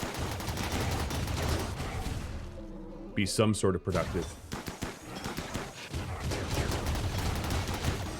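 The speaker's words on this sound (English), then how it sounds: "And let's then start shooting." Bursts of gunfire from the video game RimWorld during a colonist battle with wall-mounted turrets, crackling repeatedly under steady talk, with a few sharper shots standing out.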